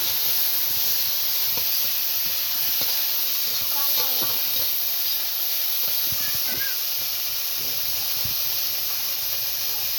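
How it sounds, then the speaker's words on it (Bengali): Chopped cauliflower sizzles in hot oil in a pan, a steady loud hiss with scattered crackles and pops and no talk. "এই ফুলকপিগুলো কুটেছে, এগুলো ভাজা হবে। ফুলকপিগুলো দিয়ে দিচ্ছি।"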